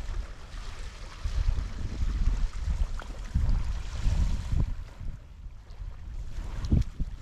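Wind gusts and lake waves slap and wash against an island shore on Loch Lomond in poor weather, a loud rolling surge that swells and fades in uneven pulses with no voices.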